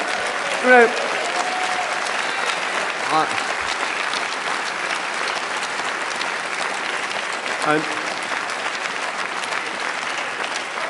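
A large audience at a political party conference breaks into sustained applause, an even roar of clapping that continues throughout, with a few brief vocal sounds from the hall.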